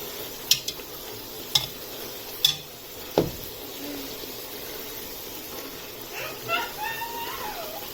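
A hand masher pressed into a pan of prawn and potato curry gives a few sharp, separate taps and knocks against the pot, spaced about a second apart, followed by quieter soft stirring scrapes.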